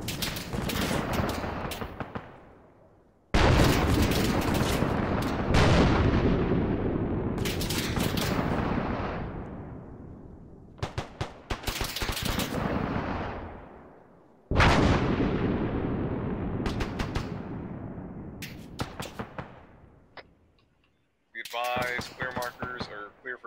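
Intense bursts of gunfire and artillery impacts in the military shooter Arma, loud rolling explosions and rapid firing arriving in waves with brief gaps between them, and a voice heard near the end.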